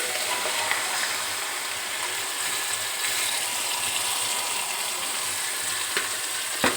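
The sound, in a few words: chicken frying in masala in a pan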